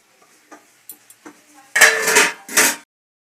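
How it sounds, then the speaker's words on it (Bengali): A metal lid goes onto a cooking pot holding jackfruit and prawn curry: a few faint clinks and taps, then two louder scraping, rattling bursts as the lid settles, close up, then quiet. "চলো ঢাকা দিয়ে দিই"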